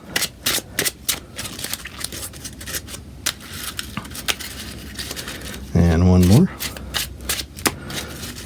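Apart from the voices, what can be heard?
shuffling a deck of cards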